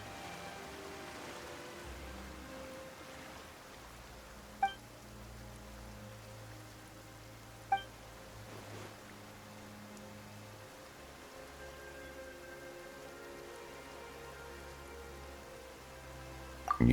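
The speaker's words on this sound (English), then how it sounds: "Why is it raining all of a sudden?" Steady rain pouring in the video game Genshin Impact: a continuous, even wash of falling water with soft music underneath and a couple of brief clicks, with no voices.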